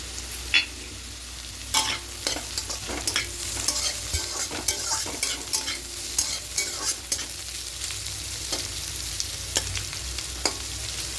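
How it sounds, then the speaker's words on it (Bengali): Vegetables and capsicum fry in a pan for vegetarian fried rice, with a soft steady sizzle and frequent sharp stirring clicks and scrapes from a spoon, close by and with no voices. "এবার হালকা নাড়াচাড়া করে একটু ভেজে নেব ক্যাপসিকামটা দিয়ে দেবো"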